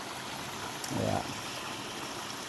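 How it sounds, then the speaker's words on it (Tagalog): Cold river water from the mountains flows in a steady, soft, broadband rush that stays even throughout, with a brief louder swell near the middle. "Malamig. Galing bundok ho itong ilog na ito."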